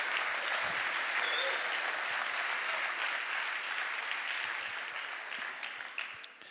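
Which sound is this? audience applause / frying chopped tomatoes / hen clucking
audience applause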